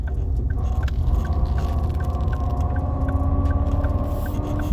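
A Ford Focus ST Mk2 five-cylinder engine runs in first gear with a harsh whining grind over a low, steady engine drone, resembling the whine of a car in reverse.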